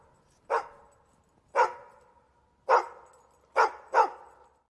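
A dog barks five times, sharp and close, the first four spaced about a second apart and the last two coming quicker, each bark clear against a near-silent background.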